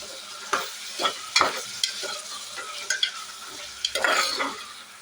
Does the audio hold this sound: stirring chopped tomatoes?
yes